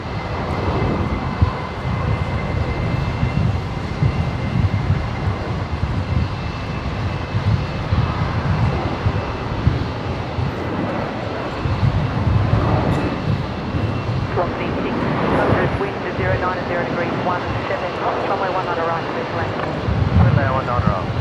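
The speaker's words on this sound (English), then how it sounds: "Qantas 533 rolling." Qantas airliner rolling for takeoff at Brisbane International Airport, a sustained engine roar running the whole time under frequent talk and crackly radio voices.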